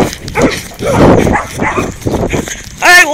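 A dog barks and yips close by outdoors near a house's tree line, its calls mixed in with a man's loud, excited talking.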